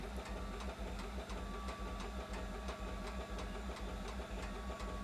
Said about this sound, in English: Feet are on the brakes,